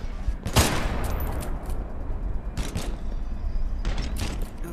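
Gunfire in the VR shooter Desperate: Vladivostok, with a few loud, sharp shot bursts spaced across the moment over a dense, noisy game background.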